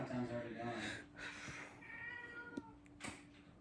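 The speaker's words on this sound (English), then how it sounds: "I got a meowing kitty" A pet cat meows a few times at night indoors, medium close, while someone talks over it.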